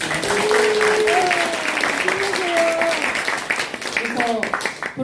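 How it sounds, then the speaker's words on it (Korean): A large crowd claps steadily at a book launch talk show event, dense applause with a few voices calling out over it before the clapping thins toward the end. "정말 두 분 위해서 박수 한번"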